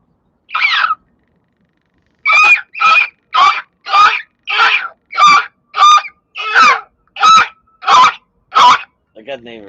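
A person repeatedly imitates a seagull screech, about a dozen loud, rhythmic squawking calls in quick succession after one opening cry.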